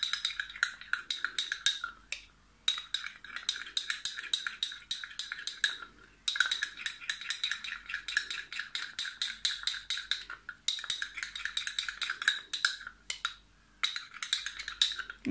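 A metal spoon clinks rapidly against a small bowl while stirring a face mask of starch, hot water and grapeseed oil. Bright, rhythmic tapping comes in bursts of several seconds with short pauses between them, with no talking.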